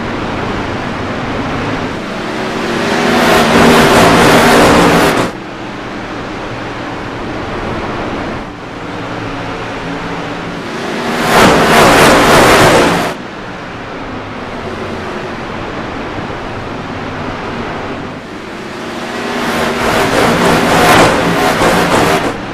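Simulated Silver Crown race cars circling Irwindale Speedway in iRacing, with engine roars swelling and fading in three loud passes at regular intervals over a steady background drone.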